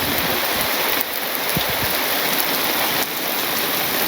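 Continuous rain falls in a Bangladeshi village, an even, dense patter and hiss with a couple of brief louder splashes and no voices.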